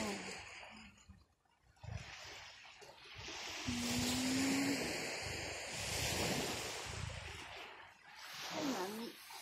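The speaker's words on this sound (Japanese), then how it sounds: "はい、波、波" Gentle waves wash onto a calm seaside beach in a soft, continuous rolling hush, with light wind in the background and a brief voice near the end.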